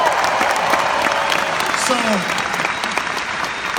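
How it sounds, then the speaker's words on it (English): An audience gives a quick round of applause for home office staff, brisk continuous clapping filling the room with a brief voice briefly cutting in. "let's give them a quick round of applause"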